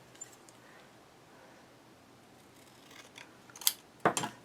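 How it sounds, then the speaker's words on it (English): Scissors snipping through paper for a large scrapbook album project, two or three short crisp cuts near the end after a quiet stretch, close and alone. "So I'm going to cut right there. I'm just going to use my scissors for this."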